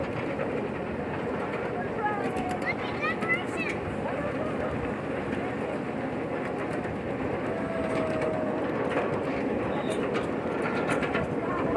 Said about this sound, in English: And we are riding the Christmas train.